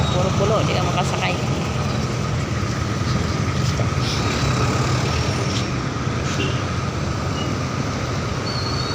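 A jeepney loaded with students pulls away on a busy morning street, its diesel engine rumbling steadily and loudly amid constant traffic noise, with people talking in the background.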